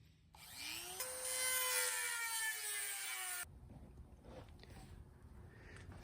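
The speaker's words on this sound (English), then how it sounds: "I'm gonna take the little Dremel and I'm gonna start by cutting" A Dremel rotary tool cuts tabs on a BMW E30 valence, giving a high whine that spins up, grinds steadily for about three seconds, then cuts off, leaving only faint background.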